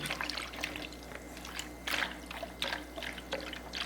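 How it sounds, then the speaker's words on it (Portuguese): Lukewarm water and yeast being stirred together in a bowl for simple homemade water-and-salt bread; soft, close sloshing and trickling swirls repeat steadily with no voices. "agora eu vou dar uma misturada aqui, ó, no fermento com essa água morninha"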